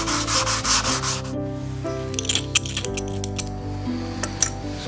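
A plastic part from a Honda QR50 motorcycle is sanded by hand with 600 grit sandpaper, giving loud, close rasping strokes in a quick back-and-forth rhythm, then lighter scattered rubs.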